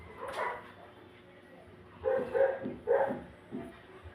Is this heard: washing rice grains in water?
no